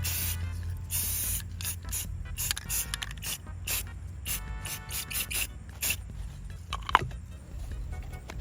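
Spray paint can hissing brown paint onto a model railroad car for salt weathering, in repeated short bursts with brief gaps, fairly close and steady, no voices.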